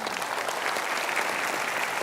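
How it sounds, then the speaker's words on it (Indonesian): A studio audience on an Indonesian TV talk show applauds, a dense, even burst of clapping, close and continuous for about two seconds, with no voices over it. "Nah, Bang Andi, tepuk tangan Bang Andi ada di sini bersama kita."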